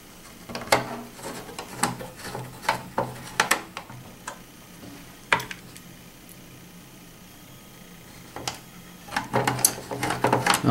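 Screws are driven back into an Xbox console casing, heard as close clicky ratcheting bursts of a screwdriver in short irregular runs with quiet gaps between, no voices.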